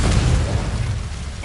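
A Confringo explosion spell going off in a Hogwarts video game as a single loud, close, deep boom that holds dense low rumble before slowly fading, with no voice over it.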